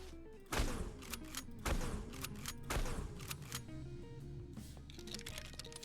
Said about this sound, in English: like they're clearly reacting to the gunshots